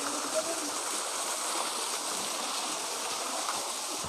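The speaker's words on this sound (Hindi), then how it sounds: "आपको वो झरने दिखाता हूँ जहाँ लोग पूरा आनंद उठाते हैं नहाने धोने का।" A waterfall near Dhundheshwar, Gangapur City, pours steadily in a broad, constant rush of falling water, close and loud with no pauses.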